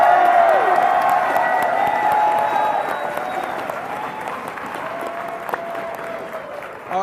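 A packed esports arena crowd at a League of Legends grand final cheers and applauds steadily, loud and sustained with whoops rising over it, while a voice speaks over the noise.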